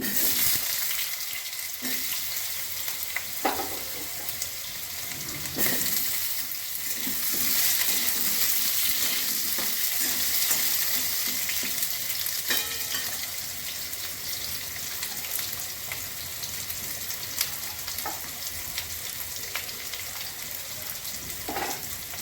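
Potatoes sizzle and fry steadily in hot oil with dry red chilli, bay leaf and five-spice seeds, a continuous crackling hiss with occasional stirring clatters, close and alone without talk.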